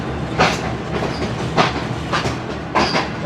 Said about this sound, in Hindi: फैसलाबाद रेलवे स्टेशन सामने खड़ी हुई है G40 की लीड के साथ कराची से चली हुई दोपहर 3 बजे की चलती 41 काराकोरम एक्सप्रेस